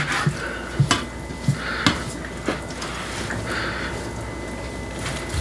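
Thin slices being cut from a cast-iron-cooked tri tip, with a few sharp knife taps and clicks on the board and pan over a steady low kitchen background.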